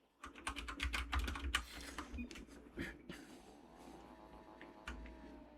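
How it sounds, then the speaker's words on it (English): A computer keyboard being typed on in a fast burst of close, clattering keystrokes that thins out to scattered taps over a faint hum. "I'm gonna start typing your name with a 3."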